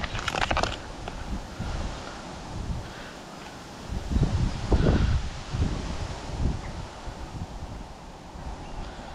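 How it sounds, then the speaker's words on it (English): Strong wind blowing across a fishing lake, a continuous rough rush and buffeting on the microphone that swells in gusts, close and loud throughout with no voices. "God, it is really picking up this wind."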